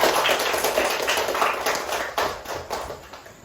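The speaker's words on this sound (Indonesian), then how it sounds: "tepuk tangan untuk kita semua." Classroom pupils clapping together, a close, lively patter of many small hands with some louder individual claps, tapering off toward the end.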